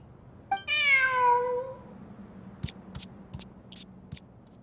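A cat meows in Genshin Impact: one drawn-out, clear meow rising and falling, followed by a few short, sharp clicks and ticks against a quiet background.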